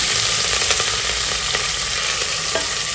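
Curry leaves sauté in a hot pan for rice and lentil dish, giving a steady, close sizzle and frying crackle throughout with occasional stirring scrapes, no talking.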